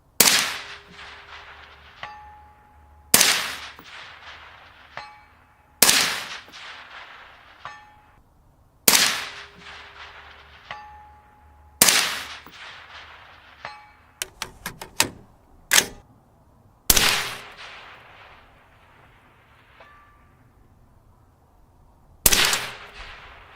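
Suppressed Mark 12 semi-automatic rifle fired at long-range targets, fitted with an Allen Engineering AE-M5 suppressor: sharp, close cracks spaced a few seconds apart, with a quick cluster of rapid shots midway and faint distant steel-target pings between.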